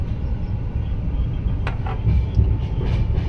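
A train running from Titlagarh to Howrah, heard from inside as a loud, steady rumble of wheels on rails with occasional clatter and squeaks.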